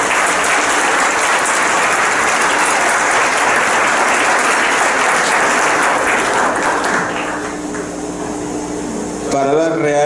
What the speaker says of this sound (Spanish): distinguido maestro Rodolfo Ramírez Raimundo, para quien pido un caluroso aplauso de bienvenida.